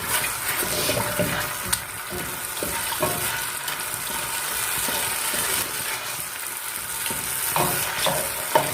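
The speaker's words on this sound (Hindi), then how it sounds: "हम भूनेंगे जब तक कि हमारा जो मसाला है वो ऑयल में छोड़ के।" Spice masala frying in oil for a payee recipe, a steady close sizzle with intermittent scrapes and clicks from stirring, no voices.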